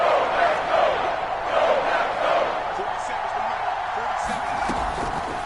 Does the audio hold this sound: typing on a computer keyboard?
no